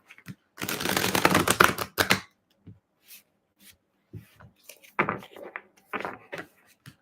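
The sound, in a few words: shuffling tarot cards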